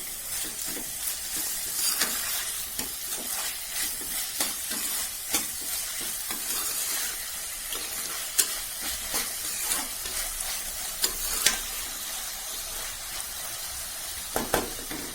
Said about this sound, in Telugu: ఒక టీ స్పూన్ అల్లం వెల్లుల్లి పేస్ట్, ఒకసారి తిప్పాలి.